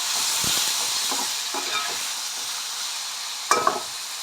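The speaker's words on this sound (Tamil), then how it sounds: "ஸோ தக்காளி கொஞ்சம் வதங்கட்டும்" Steady sizzling of tomatoes sautéing in a pan, with a few soft scraping stirs and a brief clink near the end.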